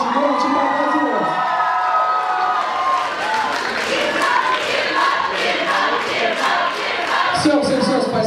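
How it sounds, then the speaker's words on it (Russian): Loud crowd at a university KVN student comedy show applauds and cheers for the chemistry faculty team, with whoops and shouts over steady clapping. "Если есть болельщики, можно громче поаплодировать."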